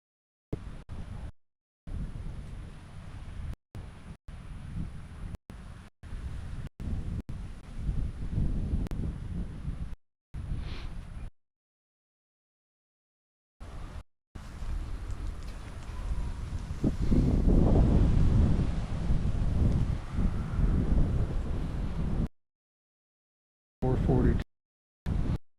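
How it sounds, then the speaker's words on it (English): Wind gusts outdoors buffet the microphone in loud, rumbling bursts that cut in and out, with stretches of silence between them. "It's windy."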